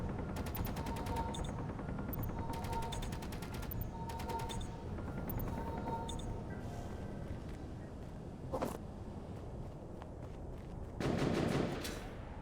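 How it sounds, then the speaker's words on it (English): Automated turret gunfire in an underground base video game, repeated bursts of rapid machine-gun fire at low level, steady and mechanical, with a sharper burst near the end. "The one turret that did shoot decided to shoot one of my other turrets."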